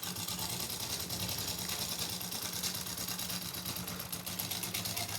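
A sewing machine stitching suit fabric with a buckram edge, a continuous fast, even mechanical whirr with a rapid needle rhythm, close and steady from start to finish, with no talking.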